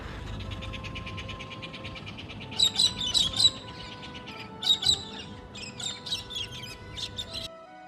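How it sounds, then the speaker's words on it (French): Several parrots calling along a path, with bursts of sharp squawks and chirps in clusters over a steady background hum, fairly near and moderately loud, with no talking. "Sur le chemin de la salle j'ai croisé quelques perroquets."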